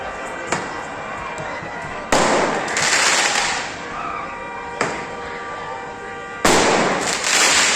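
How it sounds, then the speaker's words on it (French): Firework mortars fired in a town-centre street in Bussy-Saint-Georges in broad daylight, four sharp loud bangs each followed by a crackling hiss tail, echoing off buildings. "Ça tire dans la rue au mortier en mode tranquille"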